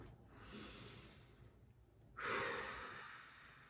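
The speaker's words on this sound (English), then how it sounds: "Take a deep breath with me." A single slow deep breath drawn in and released, soft and close, with a quiet inhale followed by a fuller, breathy exhale.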